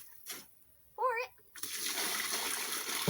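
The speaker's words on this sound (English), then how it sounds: "David, you can pour the water, David." Water pouring and splashing into a concrete mix being stirred by hand, a steady gushing splash that swells after a brief pause, with a voice calling out near the start.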